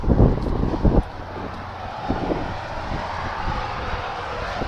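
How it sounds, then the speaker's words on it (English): Wind gusts buffet the microphone, with heavy low rumbling bursts at first that settle into a steady, blustery roar. "It's kind of windy where I live right now"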